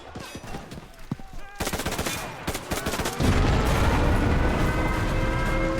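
Bursts of Beretta 1918/30 gunfire in the video game Battlefield 1, loud close shots in quick strings, with a heavy roar of explosions and battle noise building up behind them.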